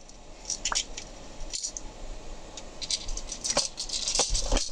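Tachikawa spoon drawing nib being worked out of its packaging, with a run of close, small crinkling and rattling plastic sounds, light taps and scrapes scattered unevenly across the clip and no speech.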